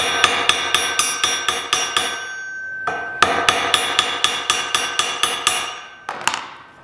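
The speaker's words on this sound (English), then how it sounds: "And then I'm going to roll my hammer over." Steel hammer strikes a metal bracelet being forged, a steady rapid series of loud ringing blows with a brief pause midway, then a final scraping hit, with no voices.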